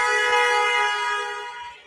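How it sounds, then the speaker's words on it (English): A loud car horn blares in one sustained honk that fades slightly toward the end, heard on a street in busy traffic in Israel. "Is that a strategic honk?"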